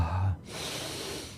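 A deep, full breath drawn in: a strong, close rushing inhalation lasting about a second, after a brief low thump, with no talking.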